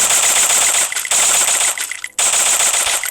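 Rapid automatic gunfire from a shooter video game rattles in loud, close bursts, broken by two short pauses before firing resumes.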